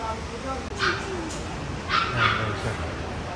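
Dogs bark and whimper a few times in a pet shop at Cartimar in Pasay City, fairly close, with shop chatter and talking underneath.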